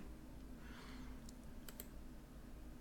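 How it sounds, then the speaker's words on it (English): Random letters tapped out on a computer keyboard, a soft, quick run of keystrokes with a couple of brighter clicks, faint and close with no talking. "that's just me just typing random letters"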